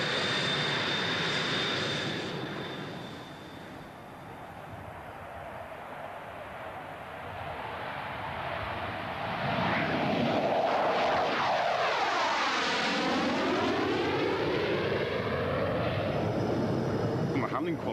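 A pre-production test aeroplane roars past in flight, its engine noise swelling to a loud, sustained passage with a strong sweeping pitch shift, heard alone without talk.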